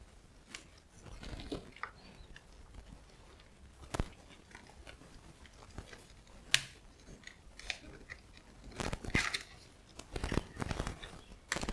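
Box of a Waterman Carene Black Sea fountain pen being opened up close, with scattered crisp snips, crinkles and sharp tearing of packaging at irregular intervals, quiet between bursts and busier toward the end.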